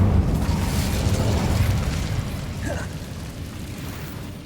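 An Incendio fire spell cast in Hogwarts Legacy bursts out with a loud whooshing blast, then fades into a rumbling roar that trails away over a few seconds.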